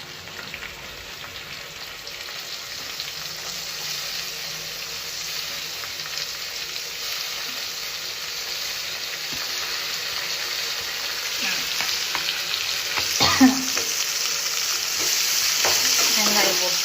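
Onions sizzling in a hot pan as they are stirred, a steady bright crackle that grows slightly louder over time, with occasional scrapes from the spoon and no talking.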